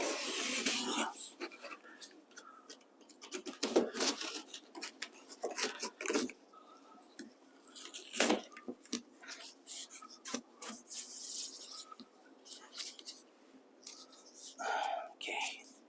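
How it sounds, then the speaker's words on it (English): A blade rasps and scrapes through the cardboard shipping box of a Lectric XPremium mid-drive eBike, a close, uneven scratching and tearing with rustling cardboard and a few soft knocks, with occasional quiet talk. "I'm going to cut the box and then let it fold down kind of like a ramp"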